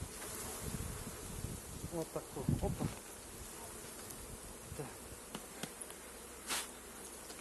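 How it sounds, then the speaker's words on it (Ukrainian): Bees are shaken off a hive frame while the colony is being prepared for winter, filling the air with a dense, close buzzing swarm and some dull knocks, as someone speaks briefly. "Зараз струшую бджолу обережно."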